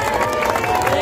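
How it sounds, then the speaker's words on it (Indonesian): A crowd applauds for Reog Ponorogo at a public oration, giving a brief, dense burst of clapping mixed with crowd noise. "Tepuk tangan untuk reok Ponorogo."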